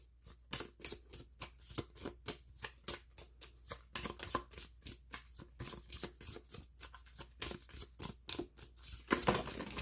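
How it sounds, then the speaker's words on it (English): A deck of playing cards is shuffled over and over, a quick rhythmic riffle of crisp flutters repeating steadily for the whole stretch, close and fairly soft, with no talking. "if I get tired of shuffling, I just start doing weird stuff"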